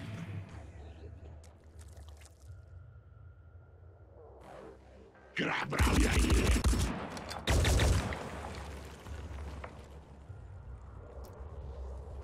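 Return-fire gunshots in the tactical video game Phoenix Point, two loud, dense bursts of gunfire in quick succession over a quieter game ambience.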